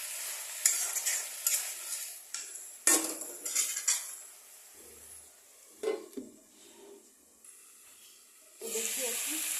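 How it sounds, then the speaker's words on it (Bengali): Fish stirred into cabbage cooking in a pan, with a run of close scraping and clattering strokes over a steady frying sizzle, pausing midway and then resuming at the end. "তো এখান দিয়ে এই মাছটাকে দিয়ে দেবো। তাকে দিয়ে এর সাথে একটু নাড়িয়ে দেবো।"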